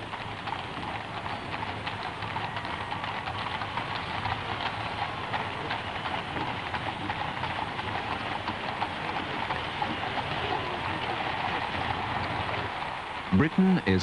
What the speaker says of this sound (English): Queen Elizabeth and Prince Philip leave Buckingham Palace for the House of Lords,